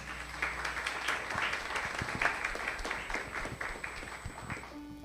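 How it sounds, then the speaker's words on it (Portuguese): A church congregation at an evening young adults' service claps together after worship, a dense, steady burst of applause with scattered sharp claps and a faint sustained tone underneath. "Aplauda ao Senhor."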